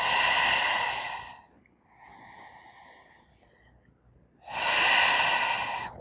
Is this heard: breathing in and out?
yes